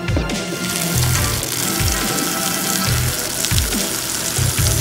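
Water poured onto dry ice in a slime experiment, giving a loud continuous gurgling, bubbling rush with repeated low bubbling pulses throughout.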